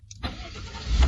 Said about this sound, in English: But let's start this truck up now.